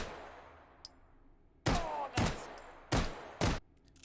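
Tracer rounds fired from a gun in the VR shooter game H3VR, four sharp, loud shots spaced about a second apart, each with a short ringing tail, following a faint metallic click.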